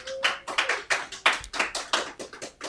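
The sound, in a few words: audience applause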